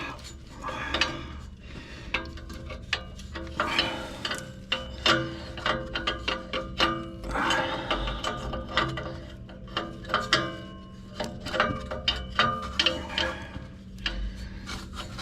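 Ratchet clicks in quick bursts of rapid pawl ticks, close and fairly quiet, while a bolt is worked loose on a 1994 Dodge Dakota with a 5.2L V8, with scraping and rubbing between strokes.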